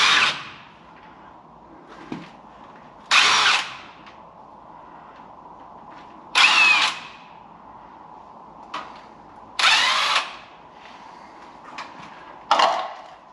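Short bursts from a power tool removing bolts from the sump of a WW2-era Karrier K6 truck, about six loud whirring pulses spread across the clip with quiet pauses between them.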